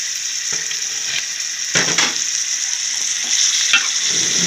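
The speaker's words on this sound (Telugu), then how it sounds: "మసాలా అంతా ఫ్రై అయింది కాబట్టి అందులో ఈ చికెన్ కూడా మళ్ళీ ఫ్రై అవుతుంది" Chicken pieces frying in a pan of cooked masala, a steady close sizzle with spoon scrapes and stirring knocks breaking through at intervals.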